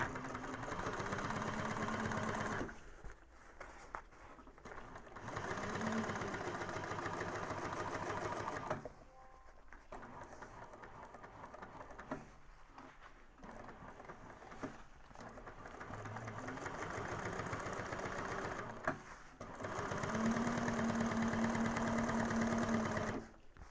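A sewing machine runs strengthening stitches along a bag seam allowance, in steady whirring bursts that stop and restart several times, with short quiet pauses between runs.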